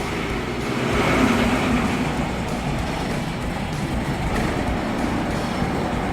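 A mud truck engine with a diesel leak, belt troubles and water pump issues runs after being cranked and started, giving a loud, steady, close rumbling drone that swells a little early on.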